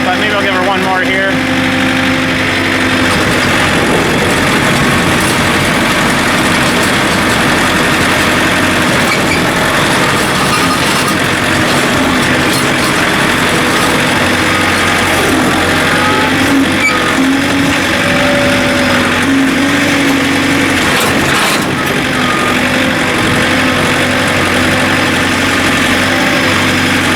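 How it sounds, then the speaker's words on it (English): A plow truck's engine runs steadily at a loud, constant idle throughout, with faint voices now and then under the mechanical drone. "I don't feel like really starting the truck up, but maybe I'll give her one more here."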